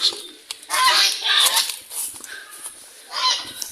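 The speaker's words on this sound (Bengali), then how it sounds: "এই যে আমাদের সুন্দর হাঁস" Ducks on a village farm with chickens nearby, giving short bursts of nasal quacks and honking calls in irregular clusters, fairly close, with faint movement and background sounds between calls.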